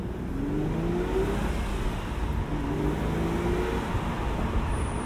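Aston Martin DB7 Volante accelerating, a steady engine drone with rising tonal whine heard from inside or close by, continuous and fairly loud without speech.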